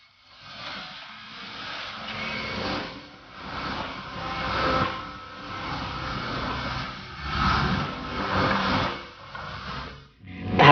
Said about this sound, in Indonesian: Mesin ini bertugas membagi balken menjadi potongan lebih kecil